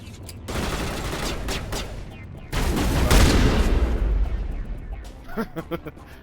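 Heavy gunfire bursts in the Mass Effect video game, shotgun blasts booming loud and close in a dense run, swelling into a sustained roar midway before tapering into a few separate pops at the end.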